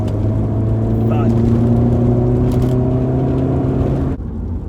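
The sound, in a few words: car driving at speed over a bridge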